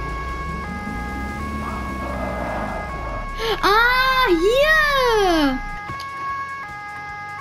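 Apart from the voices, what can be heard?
police car siren in Autobahn-Polizei Simulator 2 video game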